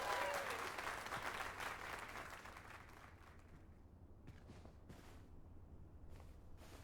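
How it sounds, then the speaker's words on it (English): Crowd applause in Dragon's Dogma 2 for a finished stone sculpture, a dense burst of clapping that starts loud and gradually thins and softens over several seconds, with no talk over it. "Let us give a round of applause for young Fulvio, who breathed life into this block of stone."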